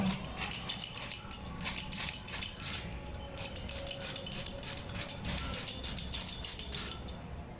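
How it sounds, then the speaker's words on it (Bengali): Banana flower being finely chopped with a knife, a quick, steady run of crisp cutting strokes in close bursts with a short pause midway, fairly quiet and without talk. "এবার বাকি যেটুকু আছে এটুকু আমি কুচি কুচি করে নেব।"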